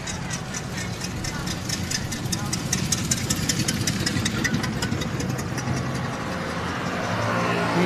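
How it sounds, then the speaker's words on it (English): A vintage 500-cubic-inch race car engine chuffs at low RPM with a rhythmic, pulsing beat as it motors past at a speed festival, and a commentator talks over it. "And now we're going to listen to that low RPM chuffer come around."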